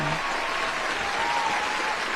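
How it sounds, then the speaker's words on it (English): Dense, steady applause from an indoor audience fills the whole stretch, welcoming a woman on stage at a business award event, close and loud with no pauses. "And the crowd goes wild."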